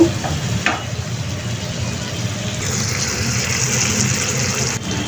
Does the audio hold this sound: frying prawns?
yes